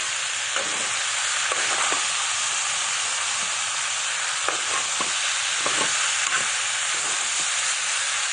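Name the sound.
pasta and vegetables frying in a pan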